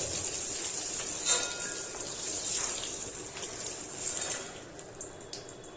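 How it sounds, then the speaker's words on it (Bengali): Pieces of pointed gourd fry in oil, giving a soft, continuous hiss with a few louder bursts of sizzle as they are stirred and turned, heard close and without any talk. "ভেজে নিলাম, এবার পটলগুলোকে তুলে নেব।"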